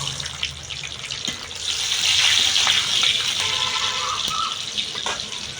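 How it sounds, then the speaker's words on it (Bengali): Water from rinsing a bowl is poured into a frying pan of mustard-poppy paste with nigella seeds and green chilies, while cooking bata fish. A steady hissing pour swells in the middle and then eases off, with no talking. "একটু বাটি ধোয়া জল দিয়ে দেবো।"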